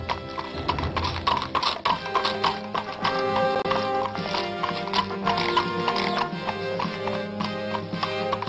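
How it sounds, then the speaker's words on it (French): Horses' hooves clip-clop in a busy, continuous rhythm at moderate distance, with a steady background murmur beneath the hoofbeats. "Et n'oubliez pas vos chevaux, surtout."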